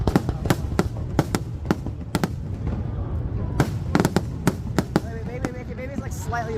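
Fireworks at a Fourth of July show in Boston burst in a rapid irregular barrage of sharp bangs and crackles over a steady rumble, moderately distant, with occasional voices from onlookers in the crowd.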